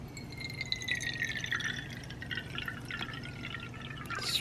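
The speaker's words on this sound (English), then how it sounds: "let's go ahead and add some water" Water poured over ground coffee in the filter of a Cawabon cold brew coffee and tea maker, a steady close trickle with faint dripping and glassy splashing running the whole time, no one talking.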